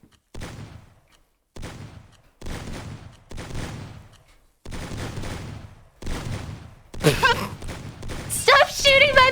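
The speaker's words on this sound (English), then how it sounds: "Stop shooting my body!" Gunfire in a shooter video game comes in loud separate bursts, each a second or so long with short silent gaps between them, and excited voices break in over the last bursts.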